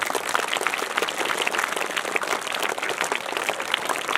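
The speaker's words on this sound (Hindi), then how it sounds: "ये बच्चे सेकंड क्लास के थे बस, तो इनके लिए तालियां डबल होनी चाहिए।" Audience applause at a school annual function, for second-class children's performance: dense, steady clapping from a large crowd, fairly loud and sustained throughout without speech.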